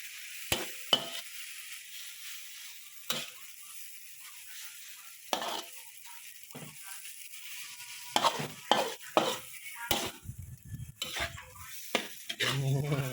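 Glass noodles and egg are stir-fried in a pan, with intermittent scraping and clattering of a utensil against the pan over a faint sizzle. The strokes grow busier and louder toward the end.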